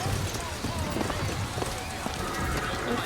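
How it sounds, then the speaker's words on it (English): Metallic clip-clop hoofbeats from a mechanical robotic horse in Bioshock Infinite, set on a busy street in the city of Columbia. They sit faintly amid dense game ambience and crowd murmur. "Mechanical, the automatic stallion, the horse of the future."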